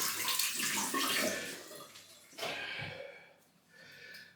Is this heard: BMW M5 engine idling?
no